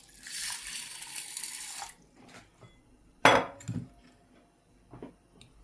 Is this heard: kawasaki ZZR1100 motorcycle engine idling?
no